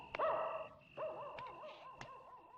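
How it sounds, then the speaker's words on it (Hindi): Dog barking and yelping in a few sharp, close bursts with whining tones between, no talk. "अरे वही काले रंग का, मुंह टेढ़ा, पूंछ छोटी, पागल कुत्ता।"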